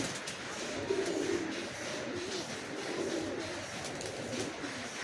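Several low, soft coos from a Giribaz pigeon repeat close by against a quiet, slightly noisy background.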